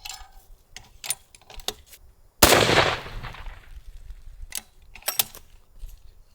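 A Cheytac M200 Intervention rifle fires a single loud, sharp shot during sighting in, its blast decaying over about half a second, with scattered small clicks and handling noises before and after.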